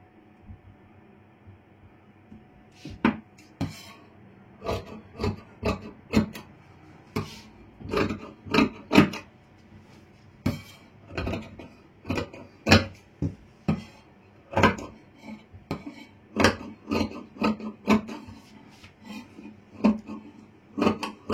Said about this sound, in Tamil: இப்போ கப் பீஸ் வந்து வெட்டிக்கிறேன்.